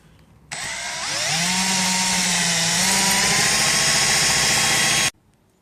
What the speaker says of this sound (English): So I am going to do a 1/2 inch hole.